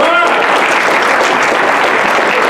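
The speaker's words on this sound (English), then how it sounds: "Let's give you a round of applause." Guests at an awards banquet give a loud, sustained round of applause, dense clapping filling the room after a brief voice at the very start.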